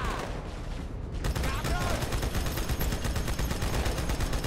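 Rapid turret gunfire in Halo 2: Anniversary at the Cairo Station level, a dense continuous stream of shots that stays loud from start to finish after a brief quieter opening.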